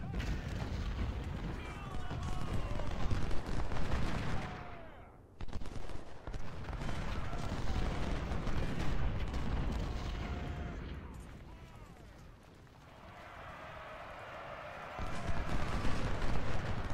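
Repeated booms of 20-pounder cannon fire rumble through a busy Ultimate General: Civil War battle soundscape at Perryville, with bursts of gunfire and talk over the top.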